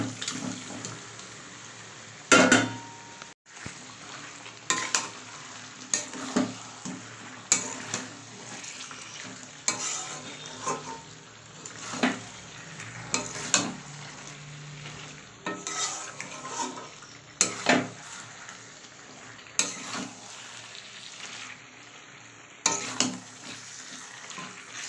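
Chicken sautéed in oil in a pan for a home-style curry gives a steady, close sizzle. Repeated spoon strokes scrape and knock against the pan throughout, with no voices.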